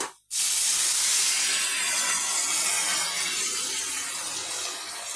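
A sudden loud hiss as wet boiled palta greens hit a hot pan, an intense sizzle that begins abruptly and then slowly eases.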